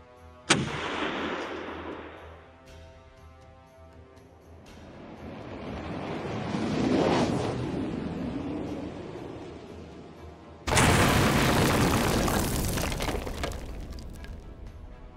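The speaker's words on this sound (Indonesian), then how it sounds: "meriam-meriam raksasa Utsmaniyah, terutama sang monster bernama Basilika ciptaan Urban, mulai memuntahkan amarahnya" Giant Ottoman cannons firing at the siege of Constantinople, heavy booming blasts with long rolling rumble, a sharp first shot, a swelling roar midway and a loud final blast that lingers.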